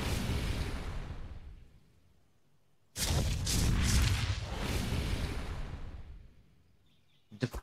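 An Indom Rex breathes fire in ARK: Survival Evolved, a sudden loud roaring burst that surges for several seconds and then fades, with a rumbling game ambience before it and a brief sharp sound at the end.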